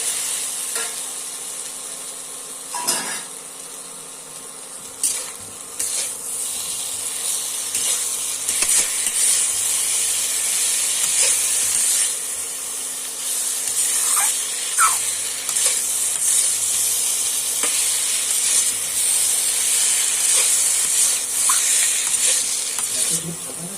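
Fried potatoes and cauliflower go into a hot pan for a Bengali cauliflower dalna, giving a steady, fairly loud sizzle with occasional stirring scrapes throughout, no talking.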